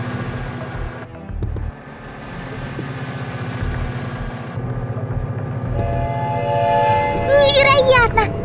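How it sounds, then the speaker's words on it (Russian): A train rolls past with a steady low rumble and rhythmic wheel clatter, joined near the end by a rising horn-like tone, in a cartoon race between a train and tractors. "Поезд проехал"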